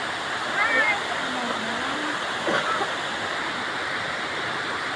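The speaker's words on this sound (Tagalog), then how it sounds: "We're here at Nancy Falls." Steady broadband rush of water at Nancy Falls, a continuous waterfall roar filling the background while people chatter and call out briefly over it.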